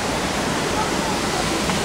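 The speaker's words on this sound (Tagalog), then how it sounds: "Nandito tayo sa Imogan Falls ng Nueva Vizcaya." Steady rushing water from Imugan Falls in Nueva Vizcaya, Philippines: a constant broad roar, unbroken for the whole short stretch.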